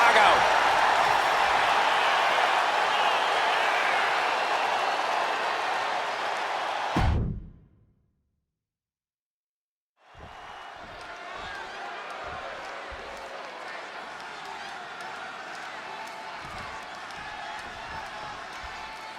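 Large arena crowd in Chicago roars loudly and steadily during a virtual wrestling match in WWE 2K26, breaks off into silence for a few seconds, then returns slightly quieter with scattered shouts.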